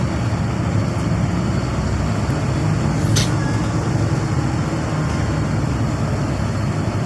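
Dense, slow-moving city-center traffic of motorbikes and cars in Medan, a constant close rumble of engines with a brief sharp hiss midway, no talk.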